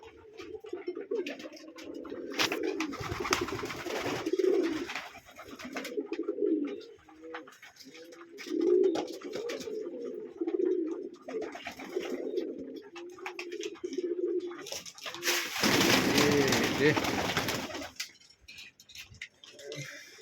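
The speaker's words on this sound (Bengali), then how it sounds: "জাস্ট দেখেন গ্রিডগুলো রাখার সাথে সাথে প্রত্যেকটা কবুতরে খাইতে আছে" Pigeons in a loft coo steadily in soft overlapping phrases while feeding on grit, close by, with a loud fluttering burst of wings near the end.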